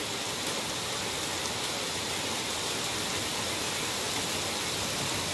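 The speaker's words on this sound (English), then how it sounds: "Still a heavy rain though." Heavy rain pours steadily in Thailand in May, a dense, even wash of broadband hiss with no gaps, heard on its own without voices.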